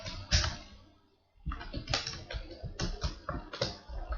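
Quiet clatter of computer keyboard typing while entering SQL database commands, with a burst of keystrokes, a brief pause, then a brisk run of rapid clicks.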